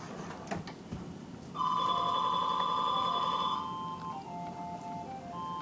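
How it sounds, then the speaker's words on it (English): A telephone ringing indoors, a steady electronic ring tone that starts suddenly, holds for about two seconds, then drops into a softer melodic tone, with quiet room noise before it. "Oh, now the phone rings."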